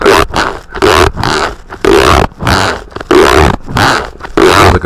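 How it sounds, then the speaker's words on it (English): The zipper on a microphone pouch is pulled repeatedly in quick, loud rasping strokes, separated by short pauses, very close up. "Like a zipper going down."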